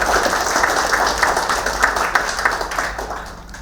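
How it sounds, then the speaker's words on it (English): Audience applause at a ceremonial event with an art exhibition, a steady wash of many hands clapping that slowly fades toward the end. "there be a round of applause for her and her hard work"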